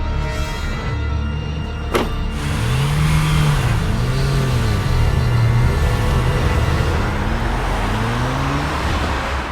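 A car revving and pulling away at close range, its engine note rising and falling in steady accelerating sweeps over a continuous road rumble, with no voices over it.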